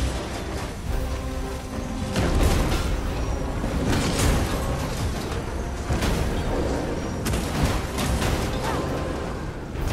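Explosions in the video game Dragon's Dogma 2 during a fight with a cyclops, with loud booming bursts at about 2.5, 4.3 and 7.5 seconds over continuous rumbling game noise and scattered clatter.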